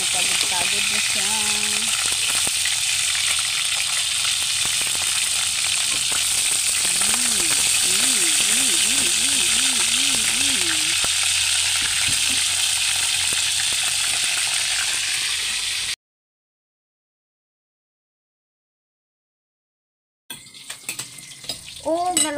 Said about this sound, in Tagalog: Kamulo pa kog prito.